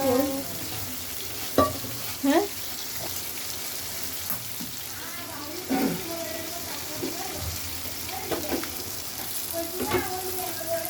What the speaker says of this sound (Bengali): রাতে অফিস থেকে এসে ঝটপট করে নুডলস রান্না করতে বসিয়ে দিয়েছি